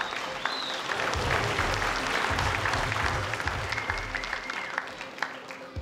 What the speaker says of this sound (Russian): аплодисменты боксерам!